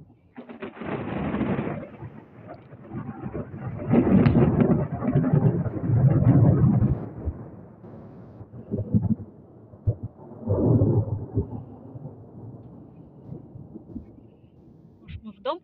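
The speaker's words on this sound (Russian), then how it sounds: "У нас гроза." Thunder rolls during a strong thunderstorm in the countryside, with several deep, heavy rumbles swelling and fading over about fifteen seconds. Pigeons coo nearby, and the rumbles sit beside nearby speech.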